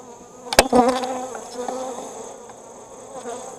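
Honeybees buzzing around an open hive during a winter-readiness inspection, a steady close hum with brief louder handling noises near the start, then a continuous even drone.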